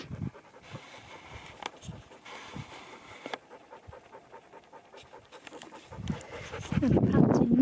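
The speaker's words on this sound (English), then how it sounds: "And a panting Nook" A dog on a long trek up into the hills pants in quick, rhythmic breaths, faint at first and growing louder and closer toward the end, with outdoor background noise.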